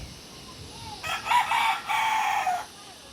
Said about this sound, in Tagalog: Ayan yung manok na tumitalaok.